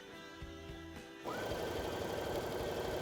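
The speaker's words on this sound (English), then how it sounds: "So I'm just stitching all the way down to the bottom." A sewing machine runs steadily, stitching down the length of a narrow fabric spaghetti strap; it starts with lighter, uneven stitching, then settles into a continuous fast whirring hum to the end, close up with no talk.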